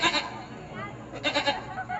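A man imitates a goat bleating with his voice, a short wavering cry near the end after quieter vocal sounds, heard close and fairly loud.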